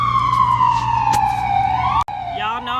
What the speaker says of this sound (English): Sorry for all the sirens.